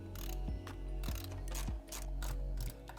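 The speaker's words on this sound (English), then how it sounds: "you have to remove 1 screw here and 1 screw on the inside" A ratchet tool clicks and whirs while screws come out of a BMW S1000RR motorcycle fairing, with repeated mechanical bursts and short clicks in a steady rhythm, close and clear.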